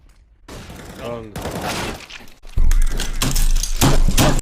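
Rapid bursts of video game gunfire crackle and thump in quick succession, loud and close, with a brief pause before a heavier volley.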